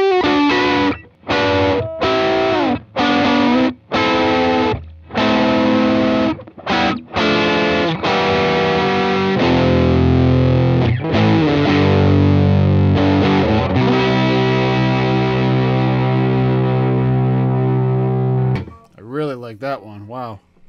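Distorted electric guitar from a Stratocaster through a UAFX Enigmatic Dumble-style overdrive pedal, starting with choppy staccato chord stabs and moving into sustained, thick ringing chords, loud and close like a miked amp, ending in a brief warbling tail.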